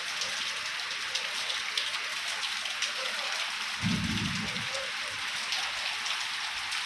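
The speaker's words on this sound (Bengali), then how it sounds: "দেখেন কি বৃষ্টি দীর্ঘ অনেক দিন পর অপেক্ষা করার পর আর কি এই বৃষ্টি রামমতের বৃষ্টি হইতাছে দেখেন বৃষ্টি" Steady rain falls in Dhaka, a dense, even hiss of drops on surfaces that continues throughout, with a brief low rumble partway through.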